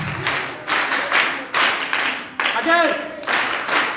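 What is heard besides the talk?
school children doing the school clap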